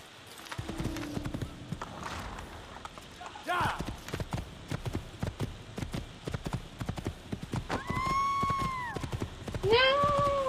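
A horse in Assassin's Creed gallops with rapid, rhythmic hoofbeats, then neighs and whinnies loudly near the end, with game sounds mixed in.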